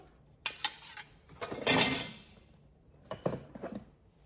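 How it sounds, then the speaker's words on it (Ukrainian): Two coasters clink and clatter on a surface in short bursts, with pauses between handling sounds, close and fairly quiet. "Так, ось такі підставочки дві."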